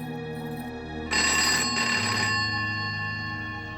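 Telephone ringing on an outgoing call to a government school, a bright electronic ring repeating in a couple of bursts over a quiet background.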